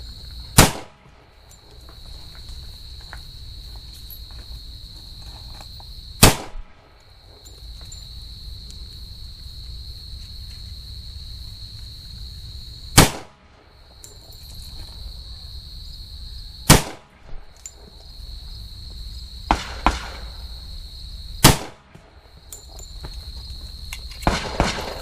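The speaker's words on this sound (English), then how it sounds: "we're going to shoot 5 rounds out of the 6-inch Para Elite" Five sharp 10mm pistol shots from a 6-inch Para Elite firing Fenix FXP 180-grain Gold Dot hollow points at about ten feet, spaced several seconds apart, each a loud crack over quiet outdoor background with insects.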